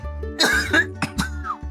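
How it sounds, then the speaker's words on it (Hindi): A man coughs several times in short harsh bursts, with pauses between, close and fairly loud. "इतना खांसता है।"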